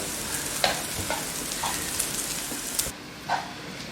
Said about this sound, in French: On va le faire rissoler dans la poêle pratiquement 20 minutes.